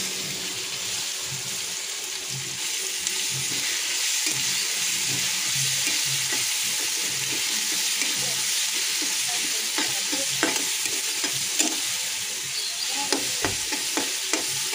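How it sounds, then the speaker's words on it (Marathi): A ground paste of ginger, garlic and green chili sautés in a pan for batata vada, giving a steady, close sizzle. Scraping stirs and light clinks sound throughout, growing more frequent toward the end, with no talking. "अद्रक, लसूण, हिरवी मिरची वाटलेली एकत्र। याला चांगलं परतून घेऊया।"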